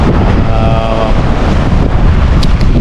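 Strong wind roars and buffets the microphone continuously over rough, splashing sea on a tuna fishing boat, loud and close, with no voices.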